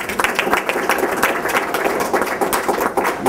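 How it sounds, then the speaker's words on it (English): Applause from the audience at the Gait and Brain Seminar 2011, a short burst of steady, moderately loud clapping from a roomful of people. "this is an applause for you right now"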